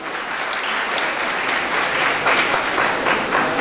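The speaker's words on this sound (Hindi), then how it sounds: "श्रीमान शिवभूषण जी कार्यक्रम मंच पर जोरदार तालियों से स्वागत करते हैं।" Enthusiastic applause at an agricultural science talent awards ceremony as a guest is welcomed onto the stage, a loud, dense, continuous roar of clapping from a large crowd.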